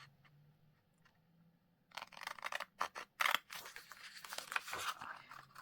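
Scissors cut out a paper piece during a craft project, a faint quiet start giving way to a run of crisp snips and paper rustling that grows busier and louder toward the end.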